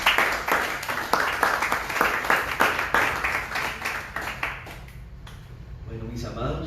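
Church congregation applauding at the close of a Spanish-language service, loud rhythmic clapping in a steady beat that fades out after about five seconds, followed by quieter room sound.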